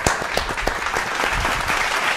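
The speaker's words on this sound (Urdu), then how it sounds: "میں آپ کی بھرپور تالیوں میں ویلکم کروں گا اینجلا رابن." A studio audience at a Pakistani Christian TV show claps in a short burst of steady applause, with individual hand claps distinct in a dense, close wash.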